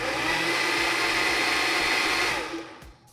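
A small personal blender frothing coffee whirs steadily at high speed for a few seconds, then winds down and stops.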